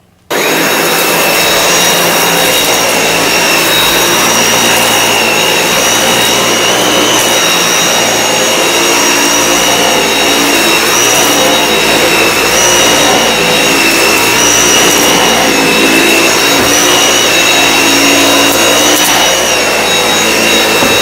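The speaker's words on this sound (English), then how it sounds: "You just get out the Dyson V8 and you're sorted." A Dyson V8 Absolute cordless vacuum cleaner switches on and runs steadily at close range, giving a loud, continuous motor whine with a high-pitched tonal hum that holds level throughout.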